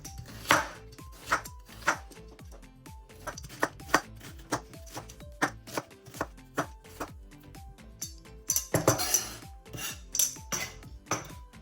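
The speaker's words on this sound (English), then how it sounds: "I'm just going to finely chop the onion" A knife finely chops an onion on a cutting board, close and crisp. Steady rhythmic taps run throughout, with a few faster flurries and board knocks, and no voices.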